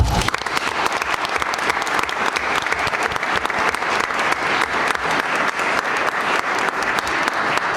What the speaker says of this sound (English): show our appreciation for our showcase participants with a round of applause